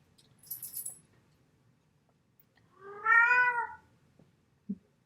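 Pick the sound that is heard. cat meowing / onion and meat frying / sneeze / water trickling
cat meowing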